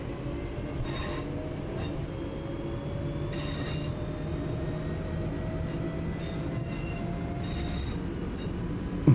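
A train in Train Sim World 6 rolls steadily with a continuous low rumble, a slowly rising motor whine, and several short bursts of metallic rail and wheel noise spaced through the run.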